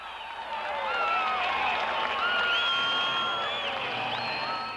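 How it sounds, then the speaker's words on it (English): A large arena crowd at a monster truck show with the Bigfoot truck, cheering and whooping loudly, a sustained swell of shouts and whistles that peaks midway and then gradually eases. "The crowd cheering the king of the monster trucks"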